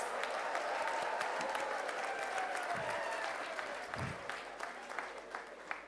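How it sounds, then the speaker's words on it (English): A graduation-day crowd gives the graduates a big round of applause, a sustained wash of clapping that thins and softens slightly toward the end. "Could we give them a big round of applause?"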